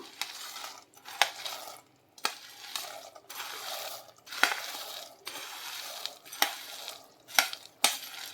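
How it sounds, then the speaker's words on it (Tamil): Sweet boondi being mixed into lightly warmed sugar syrup in a pot: soft wet stirring with sharp clinks and knocks of a spoon against the vessel at irregular intervals, close, with quiet gaps between strokes. "இப்போ நம்ம பூந்தியெல்லாம் அதில் மிக்ஸ் பண்ணிக்கலாம்"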